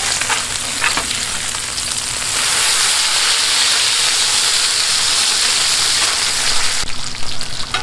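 Bacon sizzles loudly and steadily on a Blackstone flat-top griddle, a dense frying hiss that swells after a couple of seconds and holds, with faint scraping and clicks of a spatula near the end.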